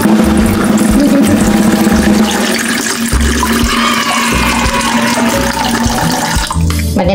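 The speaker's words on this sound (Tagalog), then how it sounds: "After natin hugasan, lalagyan na natin ng tubig." Tap water runs steadily into a pot being filled for ramen, a continuous loud rushing and splashing stream lasting several seconds, with a brief change in flow near the end.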